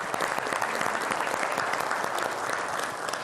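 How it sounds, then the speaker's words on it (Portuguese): Dense, continuous applause from an audience at a formal ceremonial session honoring National Real Estate Broker Day, loud and steady throughout with no pauses or voices breaking through. "Salva de palmas."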